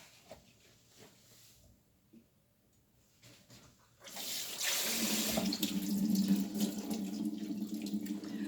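Tap water starts running partway through, filling steadily and fairly close, used to dampen a cloth for soaking shredded chili threads in a Korean kitchen.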